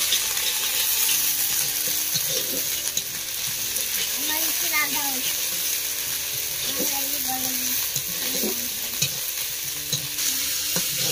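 Onion and ginger-garlic paste frying in a pan, a continuous sizzle with intermittent scraping and stirring strokes throughout, no talk.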